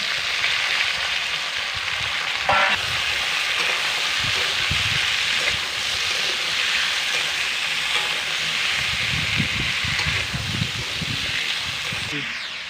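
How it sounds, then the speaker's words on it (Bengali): Cut pumpkin pieces dropped into a pan of fried chillies, giving a steady loud sizzle and hiss of frying with occasional stirring clatter, continuous throughout. "লঙ্কাটা ভাজা হয়ে গেছে, এবার কেটে রাখা কুমড়োগুলো দিয়ে দিলাম"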